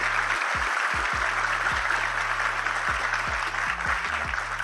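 Sustained crowd applause in a broadcast setting, a dense steady wash of clapping throughout with low musical tones underneath.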